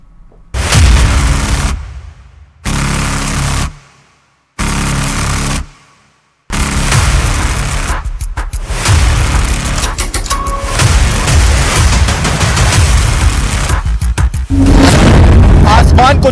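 A boiler explosion at a chemical factory: heavy, loud booming blasts in three separate bursts with silent gaps, then a continuous rough roar of noise with crackling.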